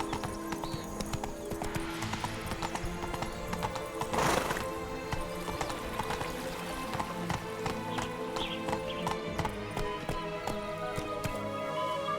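Galloping horse in the video game The Witcher 3, a rapid continuous clip-clop of hooves with a whinny partway through, loud and close above game ambience.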